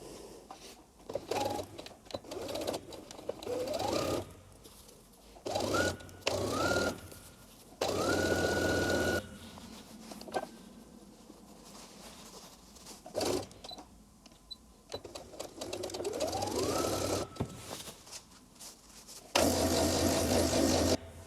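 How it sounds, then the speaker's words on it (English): A sewing machine runs in repeated bursts along the side seams of a skirt, stitching near and steady with short pauses between runs and rising motor whine as it speeds up. "we're going to sew all the 4 side seams that were pinned"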